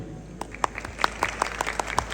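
An audience at a housing-society event claps together, a short burst of overlapping hand claps at a moderate, even level with no voice over it.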